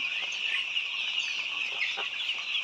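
White layer hens cluck steadily at a poultry farm, a dense overlapping chorus filling the space at close range, with no talking.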